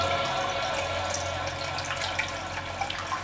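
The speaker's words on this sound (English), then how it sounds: "I'm just gonna like rinse this in the bucket of water quickly" Aquarium filter media is swished and rinsed in a bucket of water, making a steady, close sloshing and splashing wash that continues without a break.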